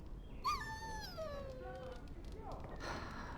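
A dog in the video game Dragon Age Origins gives a rising then falling whimpering whine, fairly faint over low background noise, with a short second whine near the end.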